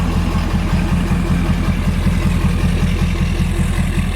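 A 2019 Can-Am Renegade 1000 ATV, straight-piped with a 5-inch exhaust, idles after a remote start, with a steady loud rhythmic engine chug and pulsing lumpy beat throughout.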